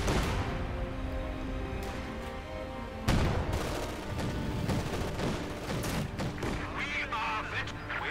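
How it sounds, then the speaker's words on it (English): Battlefield combat from the Company of Heroes 2 game, with mortars firing amid dense gunfire and booming blasts. A sharp heavy thump stands out near the middle, over a steady din of shots and explosions. "Mortar, they're firing away."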